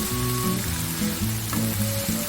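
Singaporean barbecue fusion rice frying hard in a pan, a loud, steady sizzle with faint stirring clatter, close and continuous with no voices.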